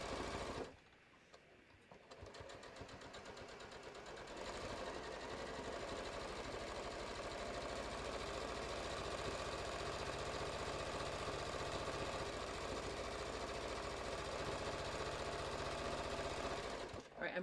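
A sewing machine runs steadily and close by as it stitches quilting rows around the brim of a fabric bucket hat. A short pause comes near the start, then it hums continuously at an even pace to the end.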